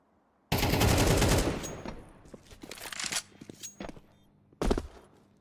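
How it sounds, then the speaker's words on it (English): Gunfire during a professional Counter-Strike match: a loud burst of rapid automatic fire up front, then scattered shots and clatter, and one more sharp volley near the end. "These headshots from Kier and Croc"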